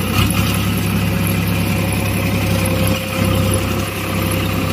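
A Vasundhara super reaper harvesting machine's engine runs steadily at about 1200 RPM, a loud, continuous low mechanical drone with constant vibration and no breaks, close by and heard alone.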